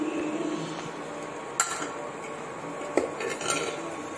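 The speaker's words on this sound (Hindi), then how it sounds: "हमने चला दिया अपना छोला" Chickpeas (chole) being stirred and fried in spices in a metal pan at a hostel, with a steady scraping and sizzle and a few sharper clinks of a spoon against the pan.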